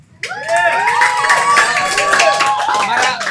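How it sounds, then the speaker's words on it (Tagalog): Crowd at an eating challenge at Ka-Brothers Pares clapping and cheering, with excited shouting voices layered over the claps, loud and close, rising sharply after a quiet start. "Palakpak!"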